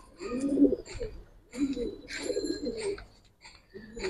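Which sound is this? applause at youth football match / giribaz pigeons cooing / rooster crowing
giribaz pigeons cooing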